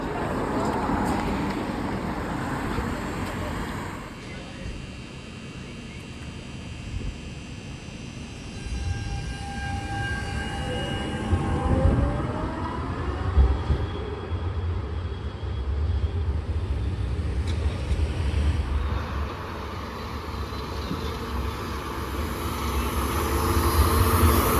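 A Munich interurban tram on a woodland stretch of line 25 rumbles past, its electric motor whine rising and falling in pitch mid-passage before the rolling noise settles again.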